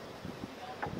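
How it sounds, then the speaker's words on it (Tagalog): Strong wind gusting across an open park playground, a steady broadband rush with buffeting bursts against the microphone, continuous and close throughout. "Grabe ang kusog ng hangin ngayon ay."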